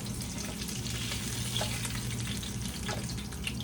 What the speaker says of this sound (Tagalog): Ano, piprito ulit natin ito.